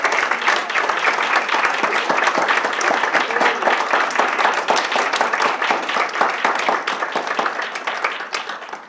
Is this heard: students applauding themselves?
yes